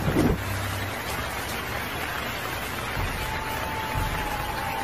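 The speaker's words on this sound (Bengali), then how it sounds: "বাপরে, কি জোরে বৃষ্টি পড়ছে।" Heavy rain pours down steadily as a dense, continuous hiss of falling water, loud and unbroken throughout, with a low rumble near the start.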